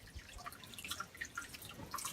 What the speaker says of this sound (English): this is the first water fountain inside Machu Picchu